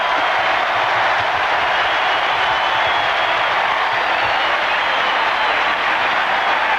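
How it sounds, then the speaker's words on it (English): Large football stadium crowd roaring steadily at an NFL game, Raiders at Seahawks in 1984, a dense sustained wash of cheering that holds loud and constant throughout with no voices standing out. "Boy, this crowd."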